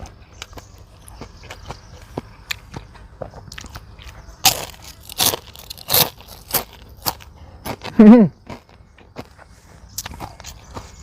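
Crispy deep-fried duck intestines and tail are bitten and chewed close up, a handful of loud sharp crunches spaced irregularly among quieter crackles.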